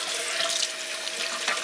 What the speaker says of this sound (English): I'm just going to run a little bit more water in here